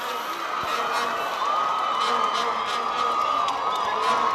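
A stadium crowd at a Namibian Premiership football match between Orlando Pirates and African Stars cheers and whoops steadily as players come on, a continuous distant roar of voices.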